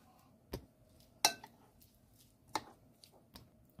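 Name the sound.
knife chopping chives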